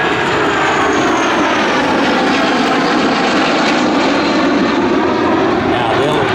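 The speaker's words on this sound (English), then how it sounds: "Here they come, ladies and gentlemen, the B-1B bomber in the full forward wing configuration." A B-1B Lancer bomber roars past at an air show with its wings in full forward configuration, a loud, steady jet engine rush that fills the air without a break.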